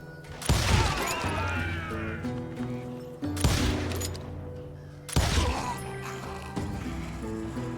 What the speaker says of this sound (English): I heard the shots and I knew I had to move fast.